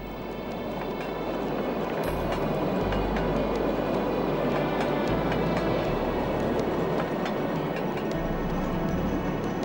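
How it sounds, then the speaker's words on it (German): Uncoupled freight wagons of the Muskau forest railway roll downhill near a briquette factory in Weißwasser, giving a steady, loud rumble with low rolling thumps and faint metallic squeals throughout. "Wie von Geisterhand bewegt, rollen die Güterwagen in Gefälle."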